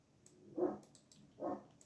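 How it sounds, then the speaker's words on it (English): Two muffled barks from neighbors' dogs in the early morning, distant and fairly faint, spaced about a second apart. "Neighbors' dogs are barking."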